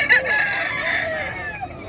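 Sweater gamefowl rooster at a Bocaue poultry market crowing once, a loud near drawn-out call filling most of the moment, with faint market background behind.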